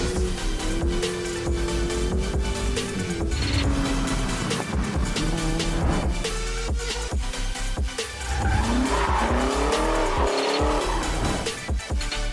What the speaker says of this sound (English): Driving this BMW E92